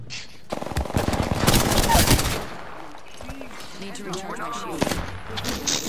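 Rapid automatic gunfire in the shooter game Apex Legends, a dense loud burst of shots in the first two seconds that tails into scattered game effects. A player's voice cuts in and out over the action.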